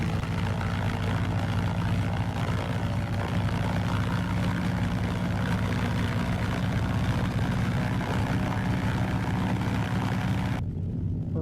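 A propeller airplane taxiing toward runway 22 in the X-Plane flight simulator, its engine droning steadily and loud throughout with no talk, the sound cutting off abruptly near the end.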